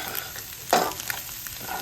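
Fried rice mixed in a hot pan, with steady sizzling under one louder scrape of the spatula and a few lighter stirring touches, heard up close without any talking.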